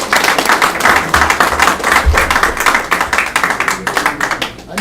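Members at a union general meeting clap together in a steady, dense round of applause, fairly loud and close, continuing without talk throughout.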